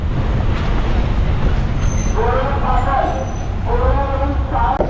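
A steady, loud diesel rumble of an MSRTC state transport bus at Panvel bus station at night, with idling engine and traffic noise throughout and tonal sounds rising over it midway.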